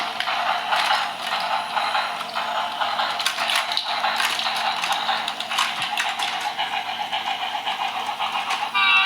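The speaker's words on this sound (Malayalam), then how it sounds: "നമ്മുടെ ട്രെയിൻ വരുന്നുണ്ട്." A toy train runs along its track during a home crash test, giving a steady, close whirring clatter that carries on without a break for the whole stretch.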